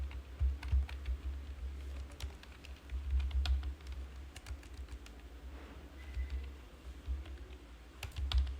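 Fingers typing an address into an online form on a computer keyboard, a steady run of light, close key clicks with brief pauses, faint chirping in the background, no voices.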